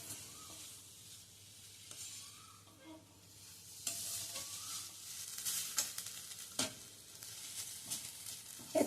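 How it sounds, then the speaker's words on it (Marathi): Grated red pumpkin is stirred constantly over a low flame in a steel kadhai, giving a soft continuous sizzle with scraping stirs and a few louder scrapes toward the end. "लो फ्लेमवरच सतत हलवत आपण हा किस शिजवून घेणार आहोत"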